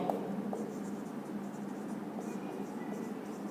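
A pen scratches on paper as a maths question is written out by hand, a close, quiet stream of short strokes with no talking.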